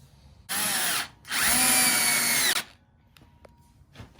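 An electric drill drives fasteners while a kitchen table is assembled, in two loud, close bursts, one short and one longer, followed by quiet with a few faint clicks.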